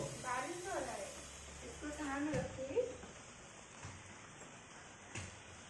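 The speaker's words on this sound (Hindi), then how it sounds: "बारिश हो रहा है" Steady rain patters in a broad hiss throughout, with muffled voices talking briefly over it early on.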